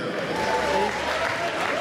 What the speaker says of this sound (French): Vos applaudissements pour l'équipe de Jean-Michel Faretra